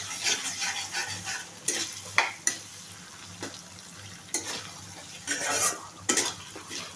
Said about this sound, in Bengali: একটু নেড়ে চেড়ে দেবো।